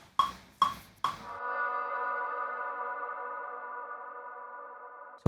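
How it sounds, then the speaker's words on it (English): Three sharp hits, the last of which rings out into a long, smooth, tonal reverb tail that fades slowly over several seconds. "sometimes you just have this, tails of reverb which sound really nice"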